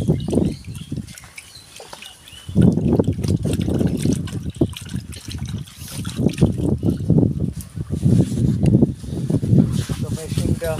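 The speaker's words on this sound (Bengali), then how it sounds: "আরো কিছু লেবু পাতা আছে, এগুলি ধুয়ে নেব।" Water runs and splashes from a tap while lemon leaves are rinsed by hand, a close, uneven gushing and trickling that rises and falls throughout, with a brief quieter stretch near the start.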